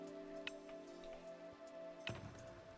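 Rain falls outside in the video game Minecraft, a soft steady patter heard from indoors, with a few scattered brief clicks over a faint background hum.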